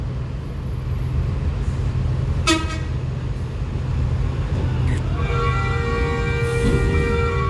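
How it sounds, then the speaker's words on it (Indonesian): Vehicle horns honk against a loud, steady engine rumble inside a ferry, one brief blast followed later by a longer, sustained honk. "terjadi klakson-klaksonan di dalam kapal"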